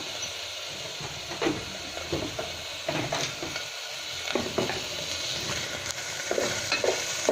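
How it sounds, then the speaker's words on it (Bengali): Dried shrimp fry in a hot pan while a spatula stirs them. A constant sizzle runs under repeated scraping strokes, close and fairly loud, with no talking. "চিংড়ি মাছটা ভাজা হয়ে গেছে।"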